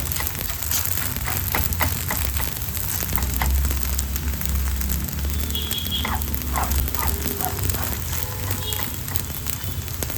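An egg paratha fries in oil on a hot pan, giving a steady, close sizzle with small crackles and pops running throughout.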